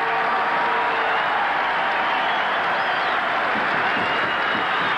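A packed stadium at a 1987 rugby league match between Manly and St George keeps up a loud, unbroken roar of cheering and applause for a departing player, steady and dense from start to finish.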